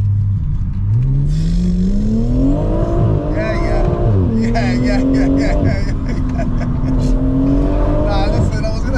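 Tuned BMW M140i engine making about 700 hp, accelerating hard with a smooth rising note that sweeps up through the gears, loud and close, with people talking over it inside the car.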